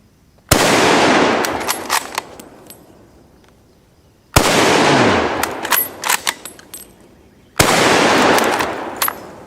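Three loud, close gunshots fired at a target, spaced several seconds apart, each a sharp crack followed by a long ringing echo with small metallic clinks trailing behind.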